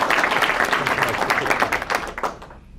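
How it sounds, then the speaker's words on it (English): A round of applause at a governor's bill signing, brisk clapping from a small crowd in a room, steady for a couple of seconds and then tapering off. "a round of applause for Representative Chase"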